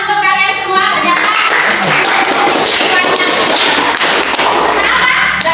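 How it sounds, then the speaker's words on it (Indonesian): Applause from a class of students in a classroom, dense continuous clapping and tapping that stays loud and steady throughout, with voices mixed in under the noise. "Tepuk tangan untuk kalian semua."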